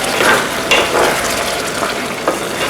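Carrots tumbling into meat frying in a pot, close and loud: a steady hiss of frying with a few sharp bursts of sizzle as the pieces land.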